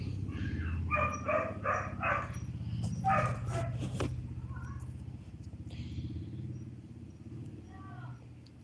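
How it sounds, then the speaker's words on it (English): A dog barks in a few short bursts near the start, mixed with a voice and background murmur; the barks are moderately loud and irregular. "The dog is barking also."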